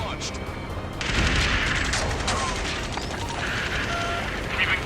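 Dense missile launch and rolling gunfire in the Ace Combat 7 air-combat game, a sustained loud barrage of blasts and crackling fire with sharper bursts throughout and radio chatter mixed in.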